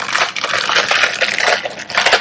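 A dry block of onion-flavoured instant noodles is snapped and crushed by hand while cooking Nigerian-style noodles, giving close, loud crackling and crunching bursts across about two seconds.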